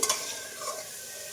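Vegetables frying and being stirred in a wok with turmeric, a brief close sizzle with scraping stirs near the start and a steady hiss throughout, no voices.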